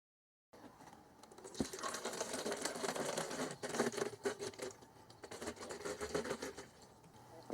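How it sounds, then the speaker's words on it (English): Distilled water pours from a one-gallon jug into a container while mixing Ford Gold coolant, a steady, splashy, faintly gurgling stream that fluctuates in strength for several seconds after a silent start. "you're going to open 1 gallon of distilled. You're going to pour half of this in here."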